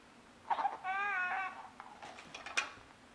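A toy baby doll gives a short electronic wailing cry, a warbling harmonic burst lasting about half a second, close and fairly quiet, followed by faint handling clicks and rustles.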